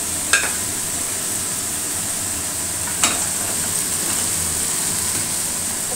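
Cauliflower sizzles in hot oil in a frying pan, a steady, even hiss with two small clicks of a utensil against the pan.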